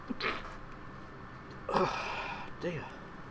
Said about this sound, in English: Again, my apologies for sneezing.